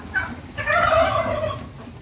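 A turkey hen kept on a small Indonesian livestock farm gobbles loudly and close, one short call followed by a longer rippling burst, with no talk over it.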